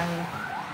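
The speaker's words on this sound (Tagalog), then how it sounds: "Halos kada minuto maririnig namin dito yung tunog ng ambulance." A brief wail of a siren, its pitch sweeping upward over steady background noise, sounding a little distant.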